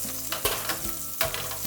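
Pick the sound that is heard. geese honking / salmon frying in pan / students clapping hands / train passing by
salmon frying in pan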